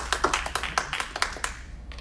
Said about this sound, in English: One round of applause for that.